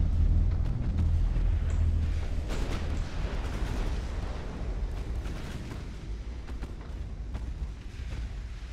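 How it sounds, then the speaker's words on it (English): Naval big guns fire in the warship battle game Ultimate Admiral: Dreadnoughts, a dense, continuous rumble of deep booms and blasts, loudest at first and slowly easing. "We're targeting Cumberland now with our big guns."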